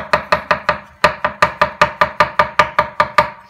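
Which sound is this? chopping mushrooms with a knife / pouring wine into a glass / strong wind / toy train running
chopping mushrooms with a knife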